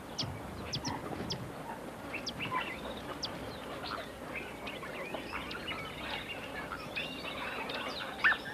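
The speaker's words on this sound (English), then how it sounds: "The pied kingfisher is a common, noisy, noticeable bird." Several pied kingfishers chatter with sharp, repeated squeaky calls in bursts, fairly close and lively, over a soft outdoor background with no speech.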